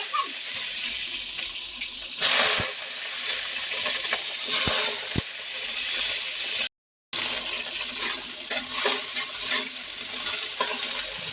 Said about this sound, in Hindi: ये देखिए मेरी परवल भुजाने लगी, और इसको भूज के अच्छी तरह से बनाऊंगी सब्जी